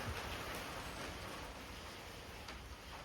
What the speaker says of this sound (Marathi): पाऊस इलो परत.